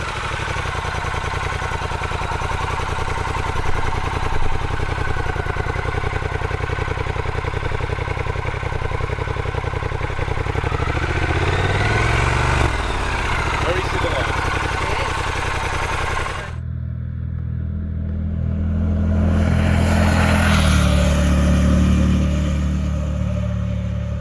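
A 2024 Triumph Scrambler 1200 X motorcycle with a 1200 engine runs loud and noisy, heard from behind as a steady throbbing rumble that shifts to a deeper, lower idle-like drone partway through.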